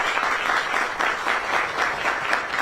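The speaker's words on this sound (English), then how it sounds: "big round of applause for her" Steady applause from a crowd at an outdoor groundbreaking ceremony for a new high school in Central Falls, dense continuous clapping at an even level with no talking over it.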